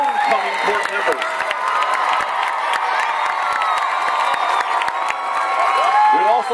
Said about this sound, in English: Let's give a round of applause for our senior homecoming court members.